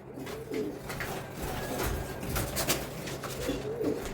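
Pigeons in a home loft coo in low, repeated throaty phrases, close and steady over a busy background of rustling and faint movement, with no talk.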